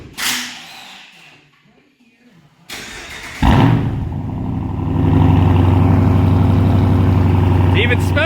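A 12-valve Cummins diesel in a dually truck with a 4-inch straight pipe cranks and fires after some quiet shuffling, then settles into a loud, steady, rumbling idle up close for several seconds.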